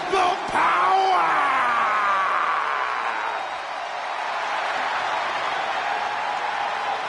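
A large wrestling arena crowd in the video game WWE 2K yells and cheers loudly, with clapping and whoops swelling early then settling into a steady roar.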